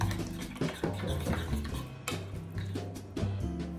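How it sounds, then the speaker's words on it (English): A spoon or utensil stirs and clinks against a bowl while ingredients are mixed with a splash of balsamic vinegar, a busy run of close, quick scraping and tapping. "Mix everything together."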